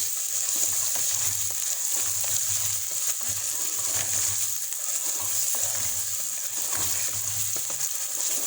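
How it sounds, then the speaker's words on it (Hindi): Chicken sizzling and frying in a pan with ginger garlic paste for a Kachnar gosht, a steady close sizzle with soft stirring scrapes running the whole time, no talking. "ये देखें हमारा चिकन भी साथ फ्राई हो रहा है।"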